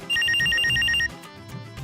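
A telephone rings with a rapid, loud electronic trill of repeated pulses for about a second, then stops, leaving quiet room sound in a domestic comedy scene.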